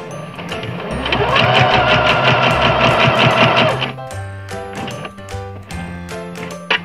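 Sewing machine running a straight stitch at 3.5 length while piecing a hexagon flower quilt top, a fast steady mechanical chatter for about three seconds, then slowing into separate clicks and thumps as the needle stops and the fabric is turned.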